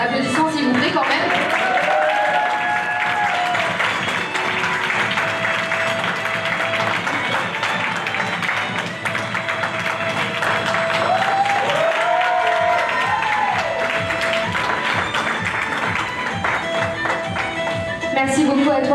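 Sustained applause from a large audience at a Miss Harmony Occitanie 2023 beauty pageant, dense and steady throughout, with cheering and some voices mixed in.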